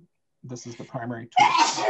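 A single loud sneeze bursts out right after a man's speech during an indoor emergency-response team leadership training session, sharp and close, ending the clip.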